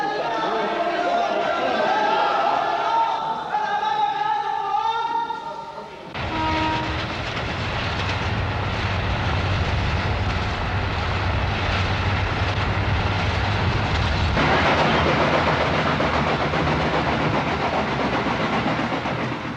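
A train on the rail journey to Cairo in Egypt rumbles loudly and continuously, its steady clatter and roar shifting after a few seconds and swelling again later, with no voices over it.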